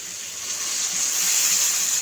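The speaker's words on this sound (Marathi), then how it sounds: "ह्यात थोडं पाणी टाकूया." Water poured into a pan of cooking chickpea and potato curry sets off a rising hiss and sizzle that swells steadily, ending with a brief clatter.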